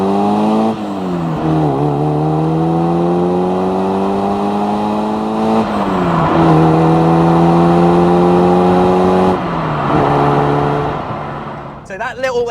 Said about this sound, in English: Let's rev it a little bit on this junction.